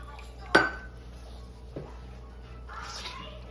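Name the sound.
stirring creamy pepper gravy with heavy cream in a pan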